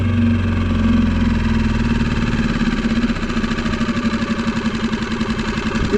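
A Parsun 6hp four-stroke outboard motor idles just after starting, a steady close-up mechanical chug with a rhythmic knocking pulse that slowly settles, with no talk.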